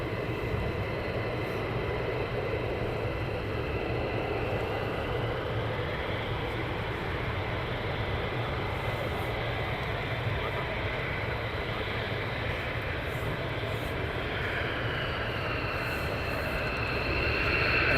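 At RAF Lakenheath, a pair of fighter jets ready for departure send out a steady, distant jet roar with a high whine, growing slightly louder toward the end.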